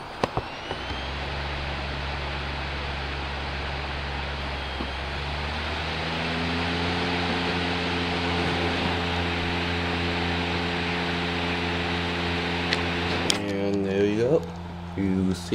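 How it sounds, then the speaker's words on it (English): A computer DVD drive spins up with a steady motor whine whose layered tones climb gradually in pitch, then settle into a constant hum, ending in a few brief clicks and rattles. "now I'm gonna be quiet so you guys can hear the drive"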